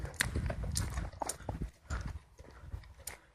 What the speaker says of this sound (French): Ouais, les chevaux qui sont dans le champ.